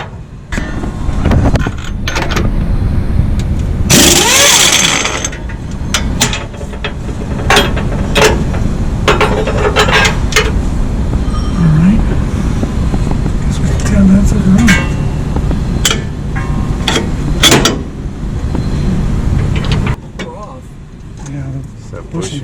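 Tools work on the radius arm bolt of a 1965-79 Ford F-100, with ratcheting clicks, metallic clanks and mechanical rattling, up close and under ongoing talk.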